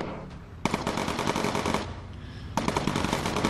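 Machine guns rattle in the aerial bomber combat game Bomber Crew, two long rapid bursts of gunfire with a short lull between them, loud and close, with no talk.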